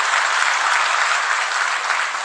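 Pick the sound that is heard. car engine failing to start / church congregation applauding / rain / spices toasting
church congregation applauding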